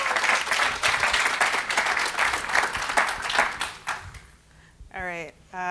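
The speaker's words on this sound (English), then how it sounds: "big round of applause" Audience applause for a speaker at a talk on soft skills, dense steady clapping that fills the room for about four seconds, then fades as a voice begins speaking.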